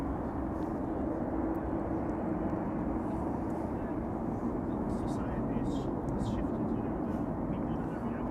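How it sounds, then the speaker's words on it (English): Steady, broad airplane engine roar at Amsterdam Schiphol Airport fills the whole stretch, a constant low rumble with a faint higher whine, unbroken and fairly distant. "were it these airplanes' engines or were it other airplane engines that we were hearing?"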